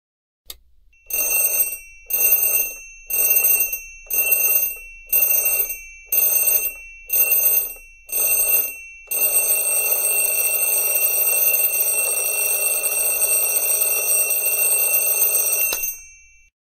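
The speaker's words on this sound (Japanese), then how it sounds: "目覚まし時計鳴ってるじゃん" An alarm clock in a horror video game rings loudly in eight evenly spaced bursts of metallic bell clatter, then breaks into one long continuous ring lasting about seven seconds before cutting off, with no voices.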